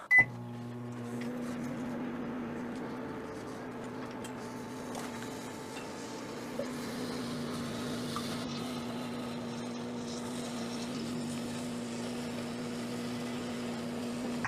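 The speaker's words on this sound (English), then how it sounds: "Did you know microwaving grapes makes plasma?" A microwave oven running while heating grapes, a steady low electrical hum with a faint fan whir, starting after a sharp beep and click, with one small knock midway.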